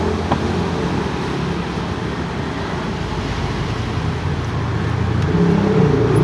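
Loud, continuous road traffic rumbles close by, with jeepney engines droning and exhaust noise swelling slightly toward the end.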